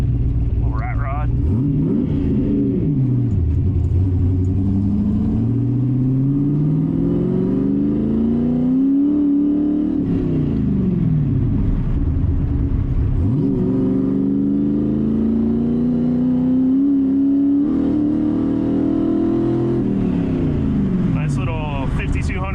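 A Ford Ranger rat rod truck fitted with a 331 engine accelerating hard with rising engine pitch through the gears, heard from inside the cab. It is loud and continuous, and the revs climb and drop at each shift.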